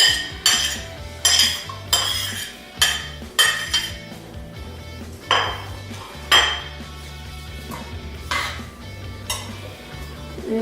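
Onions being mixed into pogaca dough in a pan, with a utensil clinking and scraping against the pan in repeated bursts, loud and close, over a faint low background.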